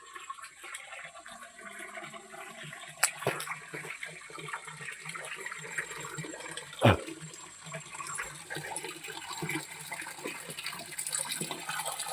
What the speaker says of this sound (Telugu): చూశారు కదా ఎలా వస్తున్నాయి వాటర్